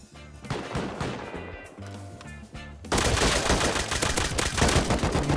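Automatic turret fire at a raid base in Rust, a steady stream of rapid shots that grows louder and denser halfway through and keeps going without letup.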